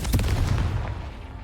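The Confringo fire spell goes off in Hogwarts Legacy as a short, booming blast with a deep thump and a fading rumble.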